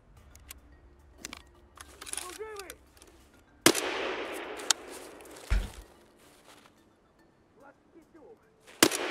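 Gunfire from Escape from Tarkov rings out in sharp, scattered shots, one loud close crack followed by a noisy tail, with quieter distant pops, footstep-like clicks and a faint voice in between.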